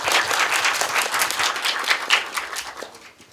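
An audience at an author talk with two novelists claps briskly and fairly close, the applause sustained and lively at first, then tapering into a few last claps.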